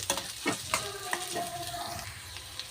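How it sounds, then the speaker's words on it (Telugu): Sliced onions frying in hot oil for Telugu-style pongal batter snacks, a steady soft sizzle with a few scraping stirs of a spoon in the pan, close and fairly quiet, no voices. "ఇలా ఆనియన్స్ అయితే మంచి బ్రౌన్ కలర్లో వచ్చే వరకు మంచిగా కలుపుతూ ఉండాలి."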